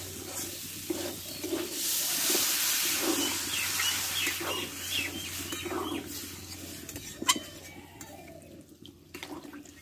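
Water poured into a pan of soybean and chickpea dal, a steady hissing sizzle and bubbling stir that rises quickly then settles, close and moderately loud with no talk.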